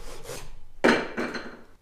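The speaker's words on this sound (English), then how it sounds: "Next, insert your dowel until you have somewhat of a square" A wooden dowel is pushed into a PVC tube for a homemade overtone flute, making a few short close scraping rubs, the loudest in the middle of the clip.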